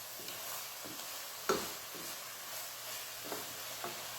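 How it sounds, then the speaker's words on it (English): Bolognese mixture stirred in a hot pan with butter, giving soft, irregular scrapes over a faint steady sizzle, fairly quiet throughout. "I'm stirring it so nothing is catching in the pan"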